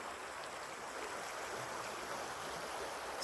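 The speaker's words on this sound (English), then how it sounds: "Maybe it's a stream. I don't know, people. It's some sort of water thing." A stream or river flows in a steady, even rush of water near Mercersburg, Pennsylvania, continuous and fairly close with no voices.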